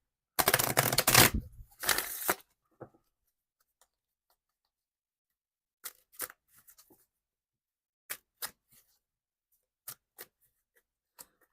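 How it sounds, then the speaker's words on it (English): Tarot cards being shuffled: a quick burst of riffling up front, then soft, scattered taps and flicks of the cards at irregular intervals, faint and close, with no voices. "try to get a good shuffle here"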